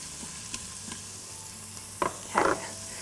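Onions sauté in melted butter inside an Instant Pot, giving a constant soft sizzle, then a couple of louder stirring scrapes and crackles near the end.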